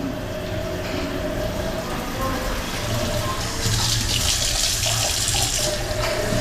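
Water runs steadily from a tap in a newly renovated house, a continuous hiss that grows louder and brighter partway through, with faint talk in the background.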